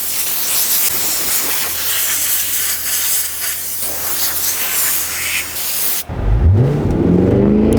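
Car wash air blowers spray a loud, steady broadband hiss over a Cadillac Escalade V, then cut off sharply, and engine revving and running sound follows.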